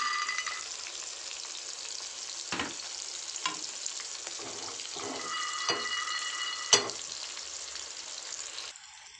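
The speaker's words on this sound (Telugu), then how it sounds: "ఇక్కడ సైడ్కి ప్యాన్ పెట్టుకొని పల్లీలు కూడా వేయించుకోవాలి." Peanuts roast in a pan over steady sizzling and frying noise, broken by several short scraping stirs; no voices.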